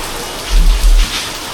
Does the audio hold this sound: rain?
yes